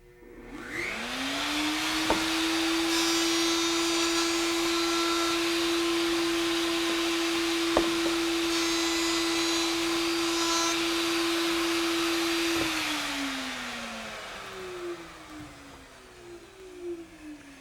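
A handheld router mounted in a router table spins up to a steady, loud whine as it trims both sides of a wooden piece along the fence, holding the tone for about eleven seconds before winding down and fading away.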